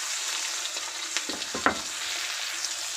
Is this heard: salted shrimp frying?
yes